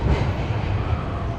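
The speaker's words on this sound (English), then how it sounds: "And I'm now on the subway" A subway train in Nagoya, Japan rumbles loudly and steadily from inside the car, a dense, continuous low roar with no voices over it.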